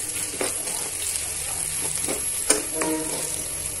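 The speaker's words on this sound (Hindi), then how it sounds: "अभी हम इसमें थोड़ा नमक डाल देंगे, फिर इसको हिलाएंगे थोड़ा" A spoon stirs mixed vegetables seasoned with salt and turmeric in an oiled pan. Soft sizzling runs underneath a few scraping stirs and light metallic clinks, with no voices.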